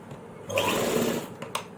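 A sewing machine stitches salwar fabric in one short, steady whirring burst of about a second, close and clear, followed by a couple of faint clicks.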